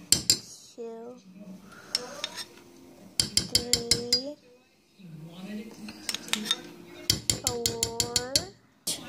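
A spoon stirs a cookie mixture in a metal bowl, clinking sharply in quick repeated scrapes and taps in several short bursts, close and clear, with people talking in between.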